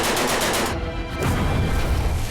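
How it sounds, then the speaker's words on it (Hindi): Gunfire and heavy tank cannon fire in the Syrian civil war: a dense, continuous roar of bursts and booms, loud and close, filling the whole stretch with no voices. "टैंक आग के गोले उगल रहे हैं।"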